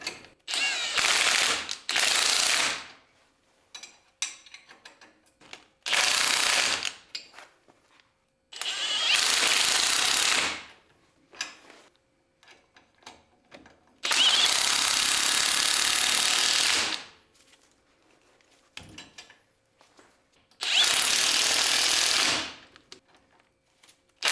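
A ratchet wrench tightens bolts on a Ford 8.8 differential. It makes bursts of loud, close, rapid clicking, each lasting a couple of seconds, separated by short pauses and faint handling noises.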